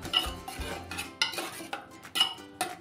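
Rice kheer being stirred in a pot with a metal spoon, giving a series of clinking, scraping strokes against the metal pot every half second or so, close and fairly soft with no talking.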